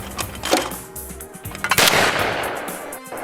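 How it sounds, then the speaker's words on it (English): Shotguns are fired at skeet on a ranch range, with several sharp blasts at varying distances and one strong close report near the middle. "Today is a good day to shoot skeet."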